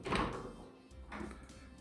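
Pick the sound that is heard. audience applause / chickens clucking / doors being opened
doors being opened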